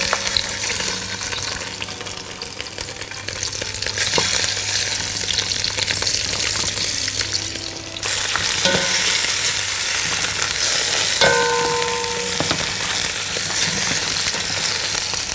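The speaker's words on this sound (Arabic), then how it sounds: "أول الزيت ما يسخن هحمر الموزة" A lamb shank fries in hot olive oil, a dense, continuous sizzle that holds close and fairly loud for the whole stretch, swelling briefly midway with no voices over it.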